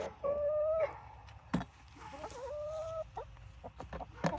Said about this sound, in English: I'm just going to let them cluck around